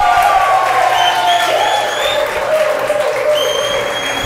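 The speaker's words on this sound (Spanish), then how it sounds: "Un aplauso, señoras y señores, para Israel." Studio audience at a Spanish-language variety show bursts into loud applause with cheering and whoops, sustained and close, with faint tonal sounds and a few voices mixed in.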